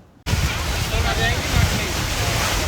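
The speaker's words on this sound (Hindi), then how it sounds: "हमारी बोट राइड स्टार्ट हो चुकी थी और वेव्स की आवाज़ आ रही थी, हवा चल रही थी" Waves lapping and steady wind buffeting during a boat ride on a lake in Udaipur, a continuous loud wash of water and air roar that begins abruptly and holds throughout.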